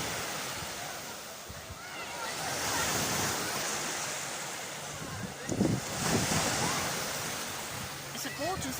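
Ocean waves break and wash up on a beach on a sunny day, a steady loud surf roar that swells and recedes, mixed with wind buffeting the microphone.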